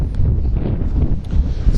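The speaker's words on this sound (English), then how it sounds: "It's quite windy." Wind blowing outdoors on a city street, a loud low buffeting rumble against the microphone with uneven gusts throughout.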